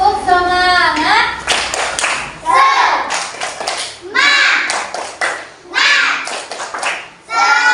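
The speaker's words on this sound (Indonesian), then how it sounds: "Tepuk semangat." Primary-school children in a classroom perform a rhythmic group spirit clap, short bursts of clapping and slapping alternating with children's chanting voices in a repeating pattern.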